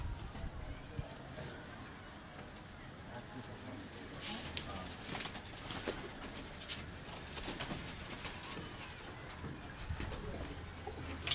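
Rooftop pigeons coo softly and repeatedly at a loft in Gujranwala, the calls fairly faint against a steady background, with someone talking over them.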